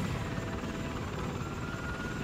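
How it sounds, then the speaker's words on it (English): Helicopter rotor chopping steadily in the Lego Batman video game, a continuous close whir with no talking over it. "Oh, helicopter."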